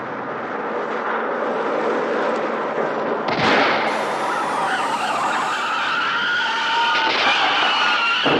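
A car rushes past in a film scene with screeching, skidding tires, a loud sustained roar that swells sharply midway and stays intense, with no talk over it.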